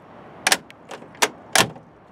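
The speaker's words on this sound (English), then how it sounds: "Wow, listen to this door." Door of an abandoned classic car with a clean interior and no rust, swung and latched in a few sharp metallic clunks and creaks, close and loud against a quiet background.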